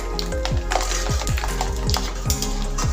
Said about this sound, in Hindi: इसे फ्राई कर लेती हूँ।